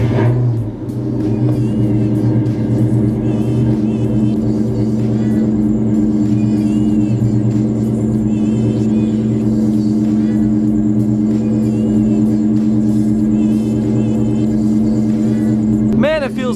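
A car engine runs at a steady idle with a deep, continuous low rumble and drone while the air suspension fills, a faint whine rising near the end; nearby talk is faintly present.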